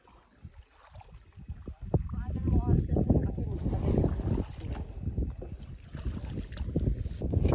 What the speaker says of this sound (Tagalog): Sakay tayo ng canoe. Ito. Babangka tayo. Babangkain natin yung Crater Lake.